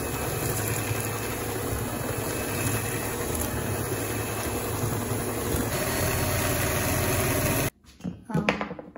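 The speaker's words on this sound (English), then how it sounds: "Now let's whisk the butter and the sugar." An electric mixer whisks butter and sugar, a steady loud whirring drone running continuously for several seconds, then cutting off into a few quieter clattering knocks.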